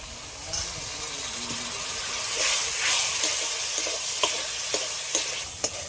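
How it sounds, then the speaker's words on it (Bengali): Spice-rinse water poured into a hot pan of cauliflower biryani masala, raising a steady close sizzle with stirring scrapes and a few sharp clicks, no talking. "মশলা ধোয়া জলটাও দিয়ে দিচ্ছি"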